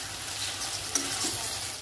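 Chicken pieces dry-fry in a pan with a little oil, making a steady close sizzle with a soft low bubbling beneath and a brief clink near the middle.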